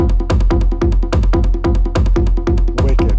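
A techno drum pattern with dotted eighth-note accents: a punchy kick-driven loop repeats tightly and loudly with syncopated hits, no voices.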